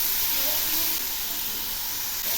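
Ingredients for pineapple chutney fry in hot oil in a pan, giving a close, steady bright hiss and sizzle that runs continuously and evenly throughout.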